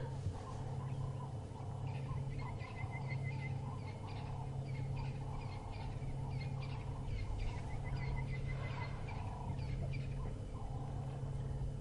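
Distant wild birds call repeatedly over a steady low outdoor hum, with short chirping phrases coming and going in the background.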